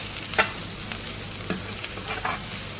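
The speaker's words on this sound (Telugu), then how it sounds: "దీన్ని వేసి అంతా బాగా కలుపుకుంటూ ఫ్రై చేసుకోవాలి." Spices and dill leaves stirred and fried in a pan, a close, steady sizzle with short scraping strokes of the spoon about every half second.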